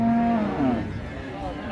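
A Friesian cow at a cattle market lets out a loud, close, drawn-out low moo that bends upward before fading into busy background noise.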